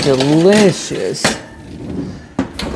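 Baking dish of scalloped corn pushed into a home oven, a few sharp clattering knocks of dish and rack after a voice, then a quieter rattle and another clunk as the oven door closes.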